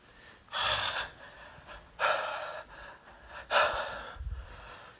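Heavy, labored breathing from a person, three loud close gasping breaths spaced about a second and a half apart, the last trailing into a quicker ragged huff, alone with no talk.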